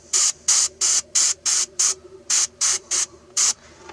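An airbrush sprays paint onto a flocked mallard drake decoy in about ten short, evenly spaced hissing bursts, each loud and close, separated by brief silences.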